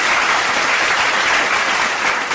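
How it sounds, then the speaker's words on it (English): An audience claps loudly and evenly in a dense, sustained burst of applause that holds without a break from start to finish, with no voices standing out. "A round of applause for that."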